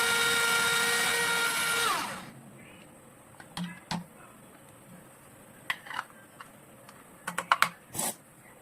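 An electric chopper whirs loudly for about two seconds while chopping vegetables for pav bhaji, then cuts out. Scattered light clicks and taps follow in near silence.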